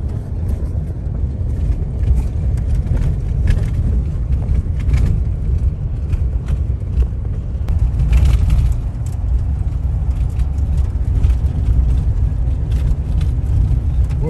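Trucks driving up a road in Wyoming, a steady low engine and tyre rumble that holds at a fairly loud, even level throughout, with no talk over it.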